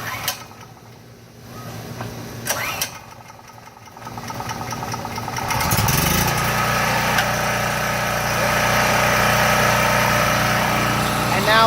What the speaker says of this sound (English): all I'm going to do is I'm going to pull the handle and I'm going to begin to start up the generator